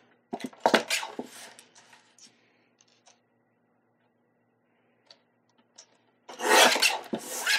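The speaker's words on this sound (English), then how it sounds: "I'm just going to trim this up so it's nice and even." Cardstock is trimmed on a paper trimmer, with a close rasping slide of the blade at the start, a quiet pause, and then a second louder cutting stroke at the end.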